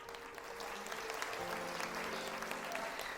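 A group gives steady, continuous clapping for viewers at the start of a Hindi vlog episode, a fairly soft, even patter with a faint tonal hum underneath.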